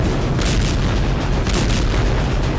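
Explosion from bombardment near a hospital in Gaza, a dense rumbling boom that fills the whole moment, loud and continuous with no voices.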